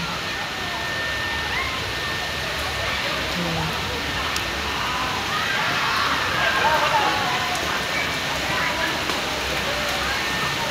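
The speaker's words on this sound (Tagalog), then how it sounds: "Malakas yung ulan mga ka-moment." A dense, steady hiss of heavy rain pours down continuously, with a person talking faintly beneath the downpour.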